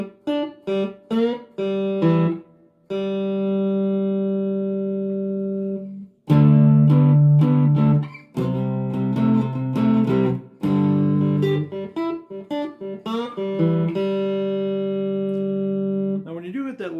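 A cigar box guitar is played close and clear, starting with a few quick plucked notes and moving to sustained single notes and ringing chords with pauses between them. No one speaks over the playing.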